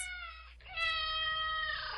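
A cat meowing as a sound effect in a State Farm radio ad, two drawn-out, clear tonal meows heard close and alone with no voices.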